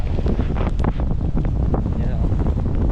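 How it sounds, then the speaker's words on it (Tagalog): Strong wind blows outdoors on Taal Lake near a motorboat, a steady, loud roar buffeting the microphone for the whole stretch, with waves and boat noise blended underneath. "At malakas yung hangin."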